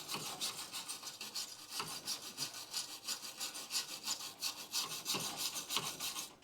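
Wire brush scrubbing a metal seam during a car restoration, a rapid, rhythmic scratching with quick back-and-forth strokes, close and steady for several seconds.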